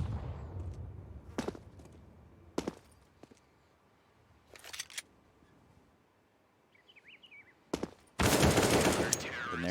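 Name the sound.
gunfire in Counter-Strike video game, pistols versus rifles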